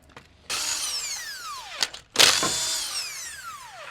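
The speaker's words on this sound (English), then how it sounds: "Use a 19mm socket to remove the wheel." An impact-style power tool fitted with a 19mm socket whirs in two rising and falling bursts while removing a car wheel, loud and close in a quiet space.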